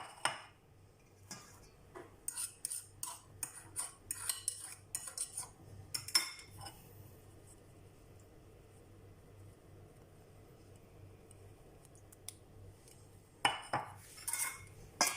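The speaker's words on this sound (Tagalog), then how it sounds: "so ihalo na natin tong ating banana" A utensil stirs banana cake batter in a bowl, giving bursts of quick clinking and scraping strokes near the start and end, with a quiet lull in between.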